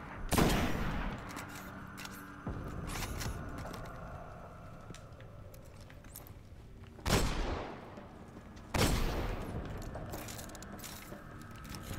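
Gunfire in the video game Destiny during a solo Nightfall strike, with three sharp loud shots, one at the start and two later, each followed by a decaying tail over a steady background hum.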